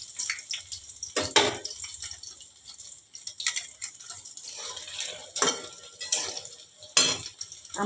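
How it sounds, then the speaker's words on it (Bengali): Eggs sizzle lightly in hot mustard oil in a pan while a spatula or spoon scrapes and clinks against the metal in irregular bursts, close by and with no one talking. "ডিম ভাপে একটু হালকা করে ভেজে নেব"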